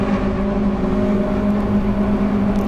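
A pack of Toyota MR2 race cars at Snetterton circuit drones past together, a loud continuous layered engine whine with no break, heard without talk.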